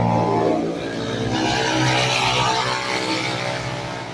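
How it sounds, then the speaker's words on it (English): Motorbikes pass by on a Philippine street, a loud engine roar sweeping past close by and fading away. "some bikes going by"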